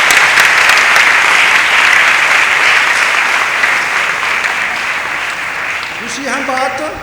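Congregation applauding at a Feast of St. Anthony of Padua service at St. Anthony's Catholic Church on Empress Road, Lahore: loud, sustained clapping from a full crowd that slowly fades, with a voice starting to speak at the end.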